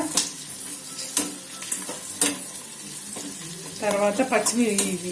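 Green chillies fry in a pan for a restaurant-style butter chicken, giving a steady close sizzle with scraping spatula strokes and a few sharp clacks, growing busier toward the end.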